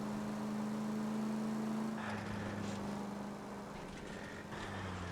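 A car in L.A. Noire drives along with a steady engine hum, the pitch shifting lower partway through, with faint road and traffic noise around it and no voices.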